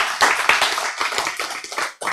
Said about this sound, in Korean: 여러분, 박수 칠 때 기분 좋아요, 안 좋아요?